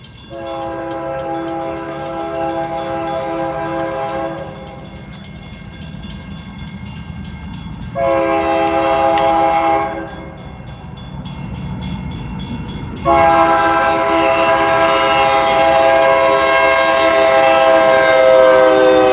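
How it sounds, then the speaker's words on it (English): A train rolls past close by at night in downtown Gilbert, its loud horn blowing in three long blasts with steady rumble and rail noise between them. "Let's get disturbingly close to the train"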